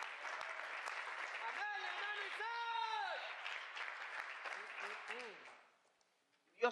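Applause from a church congregation fills most of the span, steady and dense, with sung or shouted voices rising over the clapping before it fades to silence near the end.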